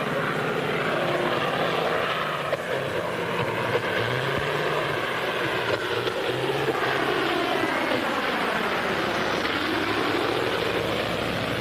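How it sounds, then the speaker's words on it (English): A propeller aircraft coming in to land with a wheel missing drones loudly and steadily overhead, its engine tone shifting slightly as it passes close by. "That's Rogers flying that plane, and he doesn't know his wheel is gone"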